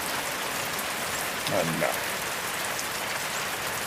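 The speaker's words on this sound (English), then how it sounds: "I'd say this rain will pick her up" Steady rain pours down outdoors by a yard with lumber and grass, a dense even hiss lasting throughout, with a brief faint voice-like sound in the middle.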